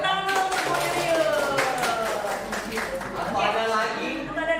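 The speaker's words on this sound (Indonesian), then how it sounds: "Tepuk tangan dulu untuk Bu Yuyun." An audience claps for a participant during a teacher training session on positive school culture, producing a scattered run of claps that lasts several seconds while a voice talks over it.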